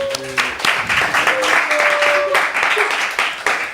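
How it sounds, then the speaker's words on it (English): A talk-show audience at an event claps to welcome the panelists, a continuous burst of applause filling the room, with a few voices and brief tonal sounds over the start. "Applause, please"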